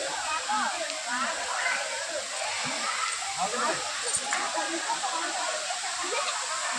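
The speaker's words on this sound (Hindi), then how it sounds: "तो झरना का पानी यहाँ से गिर रहा है" A steady rush of falling water from the Dharpally waterfall, broad hissing spray, with faint voices and splashing of bathers mixed in underneath.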